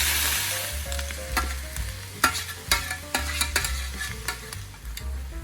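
Pork and cabbage fry in a pan with a constant sizzle, broken by sharp clatters and scrapes as the food is stirred; no voices.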